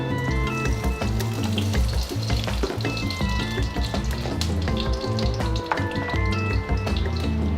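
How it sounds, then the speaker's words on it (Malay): Fenugreek seeds sizzle and crackle in hot oil, a continuous frying hiss heard beneath background music. "minyak dah panas, kita masukkan halba campurannya"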